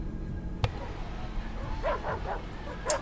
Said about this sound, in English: The dogs are barking violently.